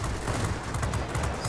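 Close, continuous rattle from a MiG-9's secondary guns in World of Warplanes, a short, loud, unbroken burst with no voices.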